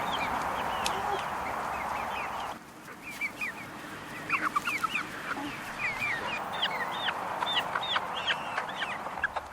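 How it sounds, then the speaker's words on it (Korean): A flock of hungry chickens clucks and squawks before their morning feeding, busy overlapping calls near and far against outdoor background noise, growing livelier after a brief lull. "닭들이 꽃으로 배를 채우기 전에 아침을 챙깁니다."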